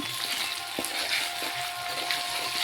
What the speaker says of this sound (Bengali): লাল লাল করে আমার পেঁয়াজগুলো ভাজা হয়ে গেছে, তাই আমি আদা আর রসুন বাটা দিয়ে দিলাম